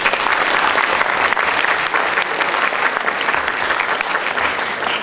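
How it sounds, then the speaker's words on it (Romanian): At an awards gala for an anti-corruption school competition, a hall full of students and teachers applauds, a dense, sustained burst of clapping with no speech over it. "vă rog să vă aplaudați pe dumneavoastră și pe colegii dumneavoastră"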